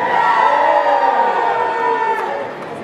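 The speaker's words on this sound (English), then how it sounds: "Give me a cheer." A convention crowd at a cosplay contest final in Stoke-on-Trent cheers and whoops for contestants, a loud, sustained roar of voices close by that holds steady before easing slightly.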